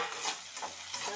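Onions and chicken sauté in a pan with a soft, steady sizzle. A spoon scrapes and stirs close by, making a few brief rattling strokes, with no voices.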